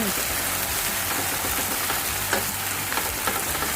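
Water mimosa sizzles and crackles in a pan as it keeps being stir-fried with seasonings just after the gas is turned off, a steady close hiss with occasional scraping clicks of the utensil.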